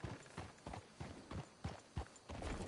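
Horse hooves clip-clop in Red Dead Redemption 2, a steady rhythm of fairly close hoofbeats on hard ground over a faint, quiet background.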